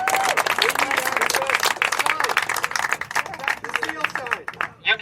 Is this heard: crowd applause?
yes